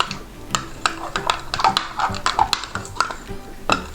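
Glitter being stirred into DIY frozen slime mixture in a bowl, irregular clicking and scraping taps from a utensil against the container, close and uneven.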